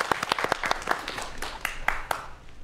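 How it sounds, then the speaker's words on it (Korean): An audience claps together at a science-fiction talk, a dense burst of many hands that swells briefly then gradually thins out. "재밌을 것 같습니다. 박수 부탁드립니다."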